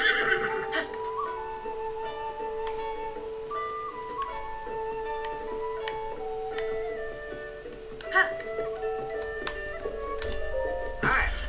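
A horse neighs in Zelda: Tears of the Kingdom at a stable, a loud whinny at the start, then a steady game music tone with scattered short effects, quieter hoof-like clicks and a few brief calls, no speech heard.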